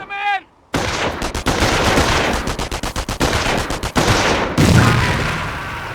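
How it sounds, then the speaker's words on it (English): MG-42 machine gun in the Company of Heroes video game, long loud rapid bursts of gunfire filling the scene, with a brief voice just before the shooting begins. "Your squad is taking enfilade fire from that MG."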